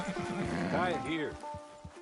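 A horse in the Red Dead Online video game gives a close, rising-and-falling whinny at a camp, heard over a steady game soundscape, with voices present.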